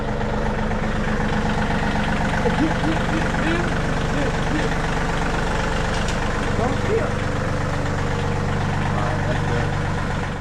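A tractor engine idles steadily and close by for the whole stretch, a constant low rumble with a faint rhythmic chug. It is loud and unbroken, and voices can be heard talking faintly over it.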